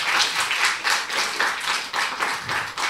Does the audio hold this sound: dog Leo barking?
no